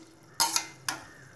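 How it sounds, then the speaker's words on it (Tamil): Banana stem gravy is stirred in a pan, two short scraping sweeps with a faint sizzle between them, close and fairly quiet. "இப்போ இதை நல்லா மிக்ஸ் பண்ணிக்கலாம்."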